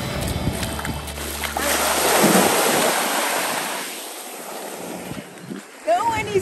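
Sea waves rolling onto a quiet beach on the Fujairah coast, a broad steady rush of surf swelling and fading with wind buffeting the microphone, close and fairly loud.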